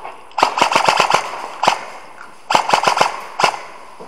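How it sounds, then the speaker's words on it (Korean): Airsoft HK416 rifle firing during a survival game, with a rapid burst of sharp cracks, a single shot, then another burst and two more shots, loud and close with no talk. "쏘고 있어. 열심히 쏘고 있어."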